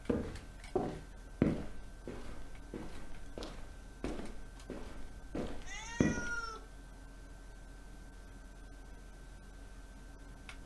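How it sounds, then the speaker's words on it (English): A cat meows once in the horror video game Akai Onna, a drawn-out cry following a string of heavy, evenly spaced footsteps, then quiet room tone. "That was a cat."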